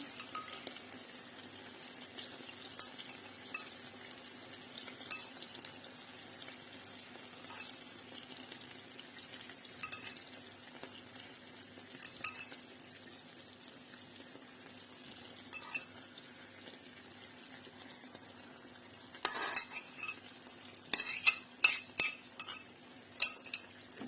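Chicken drumsticks in a frying pan take an added sauce and get stirred: a low, steady sizzle with scattered utensil scrapes and clinks, growing busier near the end.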